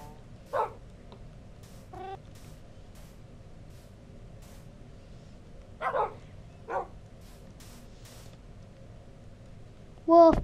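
A wolf puppy in Minecraft giving a few short, high yips and barks spaced apart over a low steady background hum.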